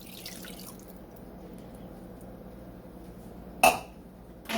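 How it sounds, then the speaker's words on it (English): A third of a cup of water poured into a crockpot for chicken and stuffing, faint trickling with a sharp clink of a cup against the pot near the end, no talking. "Okay, then you put a 1/3 cup of water in there."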